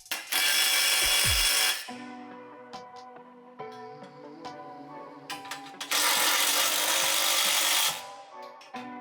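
Impact wrench driving bolts on a Jeep XJ rear bumper, two loud sustained hammering bursts with quieter mechanical whirring and clinks between them, close up.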